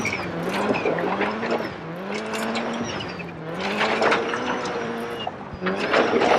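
A Subaru Impreza WRC2001 rally car in DiRT 4 revving hard through a handbrake power slide on a circular section, engine pitch rising and falling in repeated sweeps, with tire noise and gravel spray.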